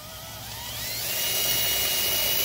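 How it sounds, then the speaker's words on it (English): An electric drill whines steadily while boring a small pilot hole for a trailer jack on a Yamaha ShoreLand'r trailer, the high motor tone swelling slightly louder as it bites in, with no talking. "So I'm drilling a small pilot hole."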